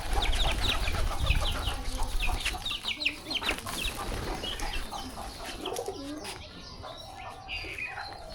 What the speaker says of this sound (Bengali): এই মুরগি দুটো ঝামেলা করছে।